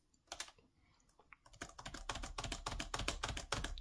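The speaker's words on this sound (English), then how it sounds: "Okay, this isn't a great example of typing." Fast typing on the membrane keyboard of a Lenovo ThinkPad X220 laptop: after a few scattered taps, a dense, steady run of close, crisp key clicks continues to the end.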